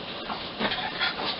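A pug dog whimpers in a steady, moderately loud whine with slight rises and falls over a background hum.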